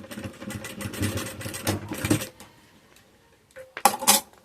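A sewing machine stitches fabric and bias trim for an Easter egg chocolate holder, running in a busy rattling burst for about two seconds, then pausing before a brief final run, with light clinks of handling and no talk.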